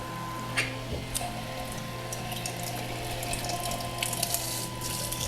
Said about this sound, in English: using this pump and stuff like this, it aerates my wort real good